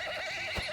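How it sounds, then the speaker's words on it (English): Horse neighing as it rears up in Mount & Blade II battle, a short whinny with wavering pitch, close and clear, with a brief thud near the end. "Force the horse to rear up"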